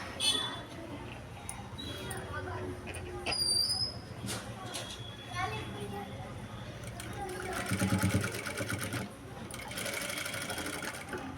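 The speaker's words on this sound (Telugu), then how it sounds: "ఇప్పుడు ఇక అక్కడ ఒక స్టిచ్ అనేది వేసుకుందాము" A sewing machine stitches a blouse with hand-design detailing, a steady mechanical whir running under soft talk, swelling briefly with faster rattling bursts near the end.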